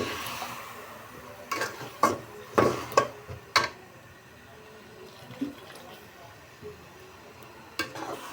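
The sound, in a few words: spices being sautéed in oil in a pan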